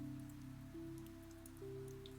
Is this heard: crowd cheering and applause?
no